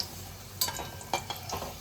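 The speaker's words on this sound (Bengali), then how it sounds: "আলুটা বেশ লাল করে ভেজে নেবো একদম" Potatoes fry in oil for a Bengali fish egg curry, a soft continuous sizzle with a few sharp scraping stirs of a utensil in the pan, close up and without talk.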